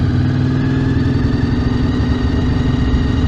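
A motorcycle engine runs steadily in first gear, a loud, close, even drone with a constant low throttle hum and no talking over it.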